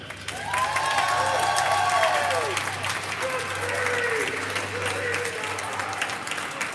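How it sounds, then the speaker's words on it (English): Crowd at a high school football game applauds for the flag bearers, sustained clapping and some cheers at moderate distance, while a voice over the stadium PA echoes through the middle of it. "please give a round of applause for our flag bearers, Carson Brzee and Alan Smith."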